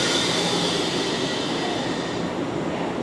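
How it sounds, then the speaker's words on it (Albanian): Trains arriving and departing at Grand Central station in New York give a steady, loud rumble of rolling wheels and station noise with no break. "shiheni sa po mbriti një tren dhe po largohet treni tjetër"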